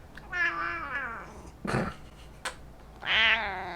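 A hungry cat waiting for its dinner meows loudly and close by, with two drawn-out cries at the start and end and a short rough sound between them.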